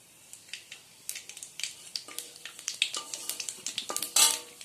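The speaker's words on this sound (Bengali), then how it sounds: "আমরা ওই তেলের মধ্যে ফোড়ন দিয়ে দিব কালো জিরে।" Black cumin seeds sizzle as they hit hot oil for tempering in a home kitchen, with fish frying in the same pan, giving a crackling spatter alongside light clinks of a utensil against the pan, close and moderately loud.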